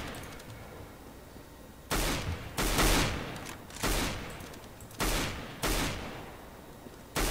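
Video game gunfire in a competitive match: five or six sharp, loud bursts of shots at roughly one-second intervals, each decaying quickly over a quiet background hum.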